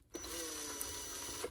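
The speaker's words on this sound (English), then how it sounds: "I don't want to drill through my desk, so I'm just going to back this out" A small power drill whirs steadily as its bit slowly backs out of a freshly drilled hole in a seashell resting on a desk, a close, continuous buzzing drone with no talking.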